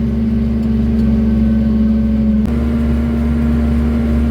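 SCOUT TB-904C tractor pulling an old SZ-3.6 seed drill across a long field, a steady mid-pitched engine drone with a constant low hum that continues throughout, close and fairly loud, with one short shift partway through and no talking.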